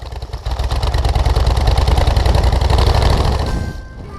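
A GN cyclecar fitted with a Tiger Moth aircraft engine runs loud and close, its rough, rapidly pulsing exhaust beat steady before tailing off near the end, with no one talking.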